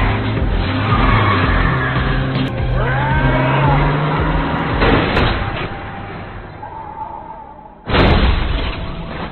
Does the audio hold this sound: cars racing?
yes